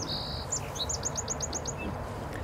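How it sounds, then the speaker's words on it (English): Birds sing in an open meadow, a quick series of high whistled chirps repeated about eight times after a sustained note, faint and somewhat distant over a soft ambient hum. "I hope you can hear the beautiful bird songs that I'm hearing now."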